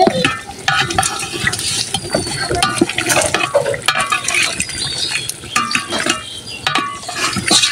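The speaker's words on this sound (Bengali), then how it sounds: "এখানে বিরিয়ানির মাংস কষানো হইতেছে, বিরিয়ানি রান্না করা হবে" Biryani meat is stir-fried with spices in a pot, with loud, close, continuous sizzling and repeated scraping and stirring strokes against the metal.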